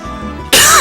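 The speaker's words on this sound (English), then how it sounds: "I'm sorry for the coughing." A single sharp, loud cough bursting in close to the microphone after a moment of quiet background.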